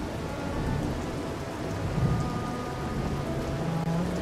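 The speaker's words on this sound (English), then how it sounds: "It's raining." Rain and rolling thunder in the video game Tower of Fantasy, a steady wash of falling rain with low rumbles swelling underneath, continuous and fairly loud.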